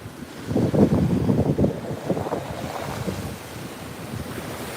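Waves at the beach roll in with a broad, rumbling wash, swelling loudly early on then easing into a steadier surf roar mixed with wind buffeting the microphone.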